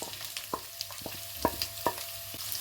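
Sliced onion frying in a pan with garlic and ginger for a chicken stew, giving a soft steady sizzle broken by several sharp scrapes and clicks of a spoon stirring against the pan, close and fairly quiet, with no talking.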